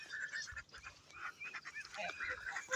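Geese honk repeatedly in a noisy outdoor setting, several calls overlapping at moderate distance with no talking.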